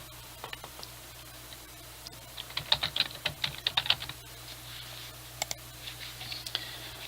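A computer keyboard used to type a password: scattered clicks at first, then a quick close burst of keystrokes, then a few isolated taps, all over a faint steady background hum.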